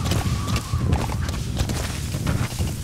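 Horse hooves clopping on the ground in the video game Metal Gear Solid V: The Phantom Pain, a steady dense patter mixed with low game ambience and thumps, continuous and fairly loud throughout.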